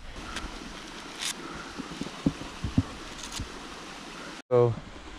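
A creek flows with a steady, soft broadband rush near the microphone on a hike toward Mt. Margaret, with brief wind buffets and a few faint knocks.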